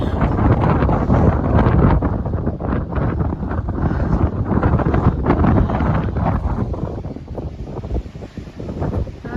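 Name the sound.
strong wind on Chesil Beach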